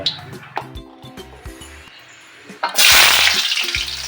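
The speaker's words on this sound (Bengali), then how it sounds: "প্রথমে আলুটাকে আমি ভেজে নেব" Cubed potatoes drop into hot mustard oil in a wok and start frying, a loud hissing rush after a few clinks and clatters, close and steady to the end.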